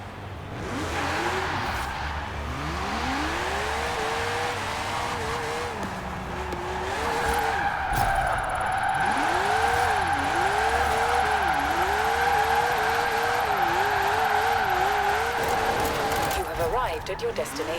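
A 2018 Porsche 718 Cayman GTS in Forza Horizon 4 revs hard in first gear with drift tuning, its engine note rising and falling in repeated swoops over a constant tire squeal, close and loud, with talking and game voice prompts over it.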